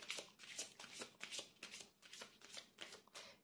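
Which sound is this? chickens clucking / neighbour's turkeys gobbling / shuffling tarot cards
shuffling tarot cards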